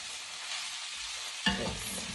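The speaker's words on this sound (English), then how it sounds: "I'm going to add the spinach and fry that up a bit." Spinach frying in a pan for a creamy broccoli gnocchi dish, a continuous hiss that jumps into a louder crackling sizzle midway as fresh leaves hit the hot pan, with no talking.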